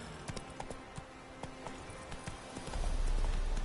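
Galloping horse hooves from The Witcher 3, a fast, steady clip-clop rhythm of repeated sharp hoofbeats at close range, with a louder low rumble building near the end.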